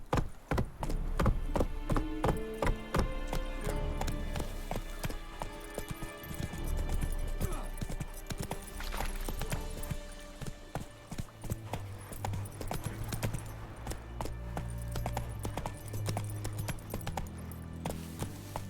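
Hooves of Geralt's horse Roach in The Witcher 3 video game pound in a fast, steady clip-clop gallop for the whole stretch, loud and close over ambient game sound, with no talk.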